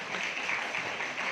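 An audience at an award ceremony claps in a dense, steady burst of applause that lasts throughout.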